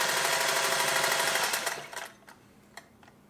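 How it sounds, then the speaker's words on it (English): Singer 403A sewing machine running a straight stitch, a steady rapid mechanical whir for about two seconds that winds down, followed by a few faint clicks. "Let's see how long of a straight stitch this machine will do."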